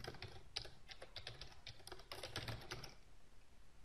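Steady, quick keystrokes on a computer keyboard while logging in over telnet to a Cisco router, clicking close and crisp in uneven bursts with no talking.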